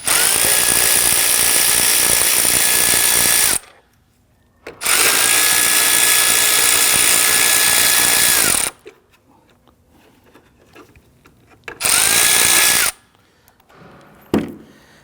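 A power tool loosening 8mm bolts on the air filter box of a Ford Taurus, running in three loud, close, whirring bursts of a few seconds each, separated by quiet gaps with faint handling noises.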